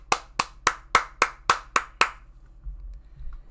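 Eight slow, evenly spaced handclaps from a single nearby person in a quiet room, each one sharp and distinct, followed by near silence and faint low rumble; no cheering voice is heard.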